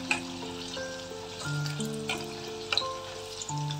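Masala spices frying in hot oil, a steady close sizzle and crackle with faint tonal hum in the background, left unstirred.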